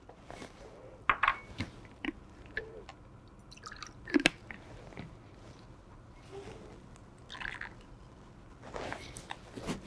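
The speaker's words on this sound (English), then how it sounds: "I'm going to rinse out the beaker with some water" Water is rinsed from a laboratory beaker through a filter funnel into a volumetric flask, giving soft, scattered drips and splashes with quiet pauses between them.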